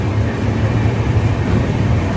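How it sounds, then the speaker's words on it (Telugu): Jaipur Secunderabad Express departing platform 2 at Amla Junction station, a steady low rumble of rolling coaches and train noise, continuous and fairly loud throughout with no talk. "30 minutes డిలేతో Amla junction railway station నుండి ప్లాట్ఫారం 2 నుండి డిపార్చర్ చూడండి"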